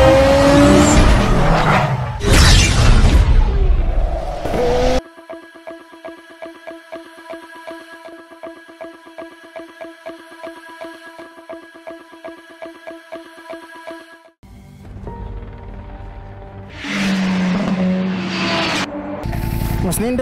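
Ducati Monster 2023 and Ducati SF V4 motorcycles race with loud, close engine roar in two bursts, at the start and the end, separated by a long stretch of music, with voices mixed in.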